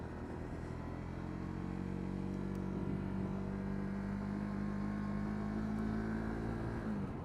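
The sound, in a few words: Honda CB 125 R motorcycle riding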